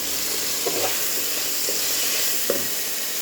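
Turmeric and spices sautéing in a pan, a steady broadband sizzle with a few soft stirring scrapes of a spoon against the pan, close and continuous with no talking.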